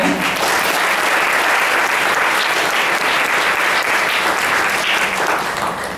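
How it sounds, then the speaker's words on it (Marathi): An audience at a Marathi Geet Ramayan concert held by a Maharashtra Mandal in Los Angeles claps, a loud, dense, sustained applause that continues the whole time and tails off slightly at the end. "त्यांच्यासाठी सुद्धा एकदा जोरदार टाळ्या"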